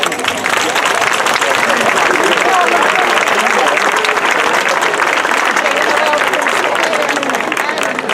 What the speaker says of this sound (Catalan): Vinga, un fort aplaudiment